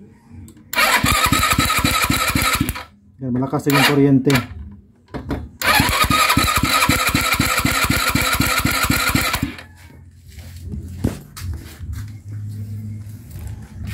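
A motorcycle engine with a newly replaced battery-operated 4-pin CDI cranks and fires, running in two loud bursts with a short pause between, then cuts to quiet handling noise as someone speaks briefly near the end.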